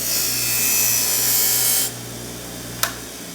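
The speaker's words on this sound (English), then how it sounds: "have a machine like this or a grinder, something that can remove the paint" A power grinder spins steadily, stripping paint from steel ahead of welding. The steady whine runs loud for almost two seconds, then cuts off, and a single sharp click follows a moment later.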